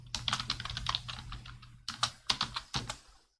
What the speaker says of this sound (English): just write here pip install tk